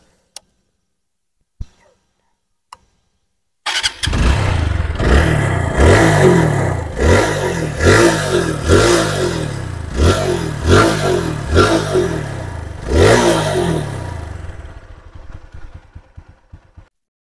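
A TVS Apache 4V motorcycle in fresh condition starts after a few clicks, then revs repeatedly in sharp, evenly spaced bursts, loud and close, before settling back toward idle.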